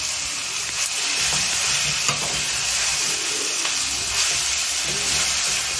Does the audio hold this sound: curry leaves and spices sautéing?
yes